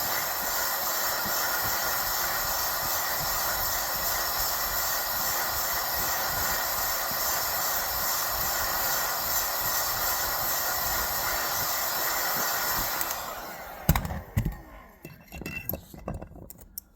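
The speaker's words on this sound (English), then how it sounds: "Heat gun heats it up quick." A heat gun warms a bearing for a Stihl 034 chainsaw, giving a steady, loud broadband hiss and roar that runs for about thirteen seconds, then cuts off, leaving faint clinks and handling noises.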